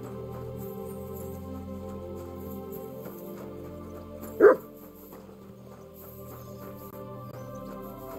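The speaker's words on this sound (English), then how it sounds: "Barking." A single short dog bark rings out in Kingdom Come: Deliverance II, close and sharp over a steady game music and ambient bed.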